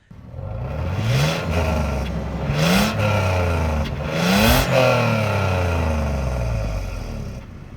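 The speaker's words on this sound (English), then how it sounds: "It's a TRD Performance exhaust. It really sounds awesome." A 2019 Toyota 4Runner TRD Pro engine revs hard several times through a loud, raspy TRD Performance exhaust, each rev climbing and falling back to a rumbling idle.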